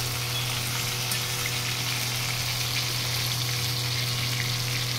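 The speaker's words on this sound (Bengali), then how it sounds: "ভেটকি মাছগুলো প্রথমে ভেজে নিতে হবে" Bhetki fish pieces rubbed with salt and turmeric frying in hot oil, a loud, constant close-up sizzle running evenly throughout with no pauses and no talking.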